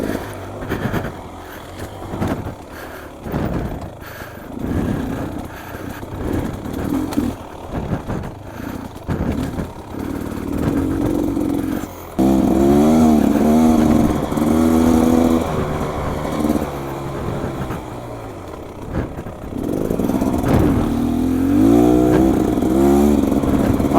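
Beta dirt bike engine revving and droning continuously as it is ridden, the pitch rising and falling with throttle, loud and close, with a steadier high rev stretch in the second half and no talking.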